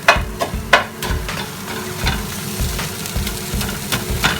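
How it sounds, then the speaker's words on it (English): Vegetables and tomato puree stirred in a frying pan, with a repeated scraping of the utensil against the pan over a continuous soft sizzle, close and fairly loud. "we're just going to mix that in with the tomato puree and the vegetables"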